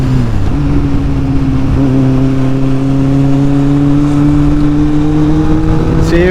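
A motorcycle engine hums steadily while riding along a road in south east France, its pitch rising gradually as the bike accelerates, loud and close with wind noise throughout.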